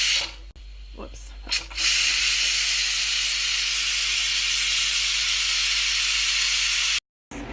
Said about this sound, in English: just watch what's going to happen when I turn it so it can release its steam